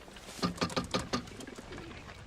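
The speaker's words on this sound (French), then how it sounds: "Ces pauvres pigeons sont même pas capables de faire le tour du pâté de maison." Pigeons coo in a steady, repeated rhythm of soft throaty calls, close and clear with a faint background hiss and no talking.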